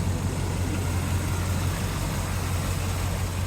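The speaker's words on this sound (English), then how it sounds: "dual exhaust. Sounds like Flowmasters." A 1985 GMC Sierra restomod pickup with a 355 engine idles through Flowmaster dual exhaust, giving a steady, deep low rumble that holds even and unbroken throughout, with no voices over it.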